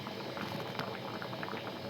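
Lentil sambar with drumstick pods simmers in a pot, a soft steady bubbling with small popping blips close by, quiet and unbroken.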